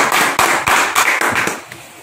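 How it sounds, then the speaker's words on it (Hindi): Clapping from a small audience applauding students at a mobile eMMC repair training institute, loud sharp claps in a quick irregular rhythm that thin out toward the end, with no talk over them. "तो एक बार इनके लिए भी ताली बजा दीजिए।"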